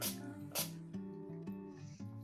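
Leave-in conditioner sprayed onto hair, two short bursts of hissing mist over soft background music.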